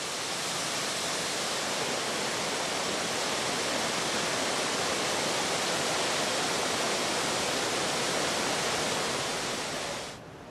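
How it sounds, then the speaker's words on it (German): Mackenzie Falls in spring flow pours over its last 20-metre rock step, giving a loud, unbroken broadband roar of falling water that holds steady throughout and trails off only at the very end. "ergießt sich das Wasser reichlich über die letzte 20 Meter hohe Gesteinsstufe"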